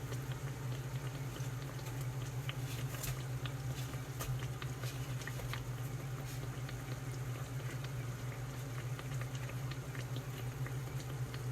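Fry bread for honey buns sizzling and bubbling steadily in hot oil, a dense continuous crackle with small pops, close and fairly quiet, no talking.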